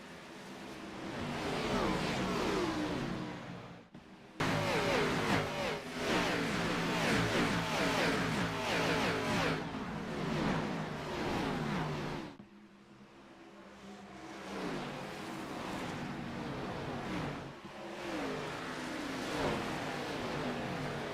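Race cars in an AWC Pro Series event at Homestead-Miami Speedway roar as the field accelerates at the start, a dense, loud, sustained engine drone with rising revs and pass-bys, briefly cutting out before returning.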